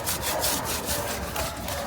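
A trowel rubs a sifted waterproofing mortar last coat across a concrete roof deck, a steady gritty scraping in continuous back-and-forth strokes, close and alone without talk.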